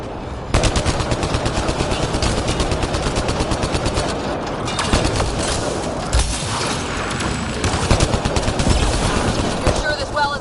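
Automated turret gunfire in the video game Mass Effect Andromeda, a loud continuous stream of rapid shots hammering on for several seconds, dense and steady with a few louder bangs mixed in.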